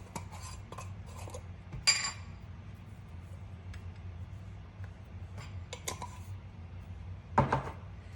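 Spice rub of smoked paprika being mixed for ribs: scattered light clinks and scrapes of a utensil against a bowl, with a few sharper taps, fairly quiet and close, with no talking.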